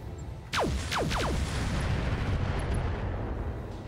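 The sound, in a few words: Madcat Mark II firing on Warhammer, video game RogueTech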